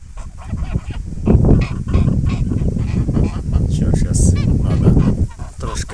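Three-month-old Mammoth geese honking loudly and close, a dense overlapping chorus of repeated honks that goes on throughout.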